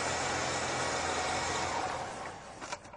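A car engine idling steadily in a garage during sensor and fault-code troubleshooting, a constant close hum that fades and drops off near the end, with no talk.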